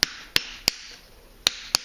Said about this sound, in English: This edge needs to be tapped back. So I use a wooden wedge and a hammer,